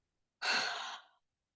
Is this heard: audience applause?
no